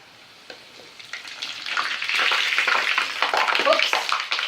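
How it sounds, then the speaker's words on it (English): Chicken cheese steak pastelillos, Puerto Rican style, sizzle and crackle as they fry in hot oil, the bubbling swelling louder after the first second and staying steady and close. "Gently add it to the oil and let it get crispy."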